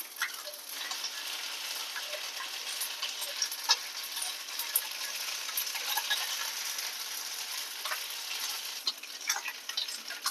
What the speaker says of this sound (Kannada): ಇವಾಗ ಒಂದು ಪಲಾವ್ ಎಲೆ ಹಾಕ್ತಾ ಇದ್ದೀನಿ ಒಂದು ಅರ್ಧ ಸ್ಪೂನ್ಗಿಂತ ಸ್ವಲ್ಪ ಕಡಿಮೆ ಶುಂಠಿ ಬೆಳ್ಳುಳ್ಳಿ ಶುಂಠಿ ಪೇಸ್ಟ್ ಹಾಕ್ತಾ ಇದ್ದೀನಿ